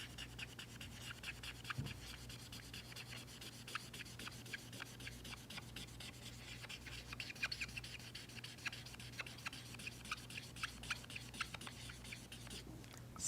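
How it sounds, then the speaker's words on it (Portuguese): Steady scratchy rubbing of a pencil or crayon colouring in a map of Nigeria, rapid back-and-forth strokes repeating continuously, close and fairly quiet with no talking. "E depois eu vou colorir a Nigéria."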